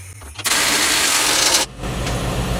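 Impact wrench fitted with a 140-pound torque stick tightening the lower shock bolt on a 2005-2017 Nissan Frontier: one loud, close, sustained burst of rattling hammering lasting about a second, then a lower hum.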